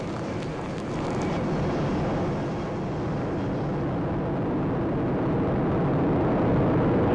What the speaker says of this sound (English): Launch Alliance Atlas V rocket carrying USSF-51 for the United States Space Force